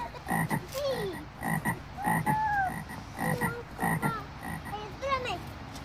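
A toad croaking in a close, clear series of repeated croaks that come in short rhythmic bursts over about six seconds, with no voices.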